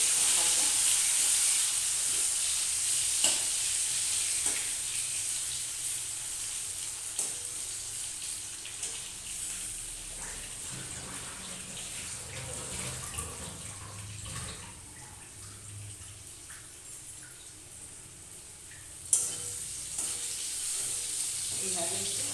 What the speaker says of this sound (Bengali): এইভাবে একটু ফ্রাই করে নিচ্ছি, বেশি ফ্রাই করবো না